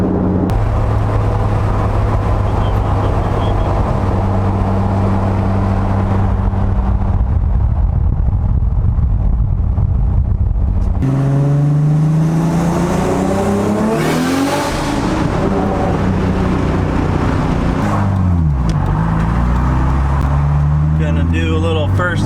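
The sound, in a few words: 700hp Toyota Supra accelerating in first gear on Toyo R888 tires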